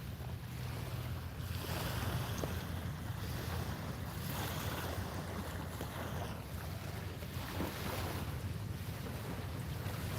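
Storm-churned ocean waves wash ashore carrying logs and debris on a foggy coast, a steady rushing surf roar mixed with gusty wind noise buffeting the microphone, no voices.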